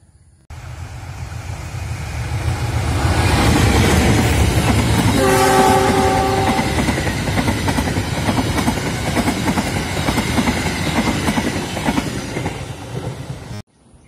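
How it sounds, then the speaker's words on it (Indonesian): The Progo passenger train, running from Pasar Senen to Lempuyangan, passes the Kedundang station construction site with a loud, close rumble and wheel clatter, broken by a short horn blast partway through. "yang barusan melintas di proyek stasiun Tundang adalah kereta api Progo dari Pasar Senen menuju tujuan akhir stasiun Lempuyangan"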